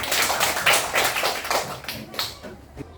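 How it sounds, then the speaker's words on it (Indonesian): Schoolchildren clap for a classmate after a magnet demonstration: quick, uneven claps from a few nearby hands, fairly loud at first and thinning out toward the end. "tepuk tangan anak buat toilet"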